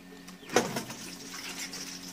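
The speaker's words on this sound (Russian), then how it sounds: "шоферским методом будем сливать аккуратно вот в эту емкость" Apple cider brew siphons by mouth through a hose from a vat into a container in a garage, a faint trickle and gurgle with a brief splash near the start, quiet and close.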